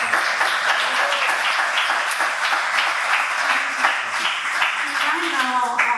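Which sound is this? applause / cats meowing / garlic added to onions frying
applause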